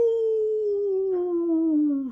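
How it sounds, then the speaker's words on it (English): A single long, sustained werewolf howl sound effect in a Scooby-Doo audiobook, a clear tonal wail that slowly drops in pitch, loud and alone. "the werewolf howled."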